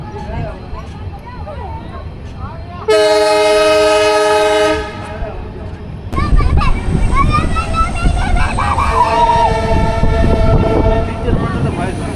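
A train crossing the new Pamban bridge sounds a long, loud multi-tone horn blast for about two seconds, then rolls on with steady rumbling wheels and further tonal whistling, while people talk nearby.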